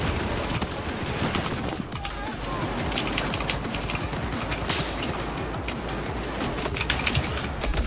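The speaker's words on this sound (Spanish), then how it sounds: "Nada más yo escucho que son dos tiros en la cabeza y ya." Rapid gunfire bursts from a video game shooter crackle through a dense, noisy mix of overlapping shots and effects, continuous and loud throughout, with voices talking underneath.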